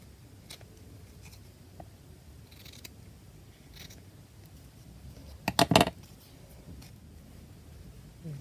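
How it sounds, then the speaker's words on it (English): Scissors snip off bits of material while a mini winter journal is being made, a quick cluster of close, crisp cuts standing out from a quiet background, with faint handling sounds before and after. "Just cut those bits off."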